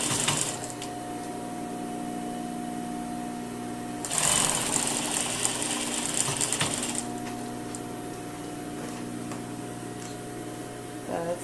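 Sewing machine stitching a jacket lining to the garment at a 1 cm seam allowance, steady mechanical whirring through the clip with a louder, faster burst of stitching in the middle.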